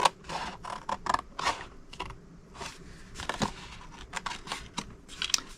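Scissors cutting paper up to a score line for a hot cocoa gift card treat box, a run of quiet, irregular snips and crisp rustles close by.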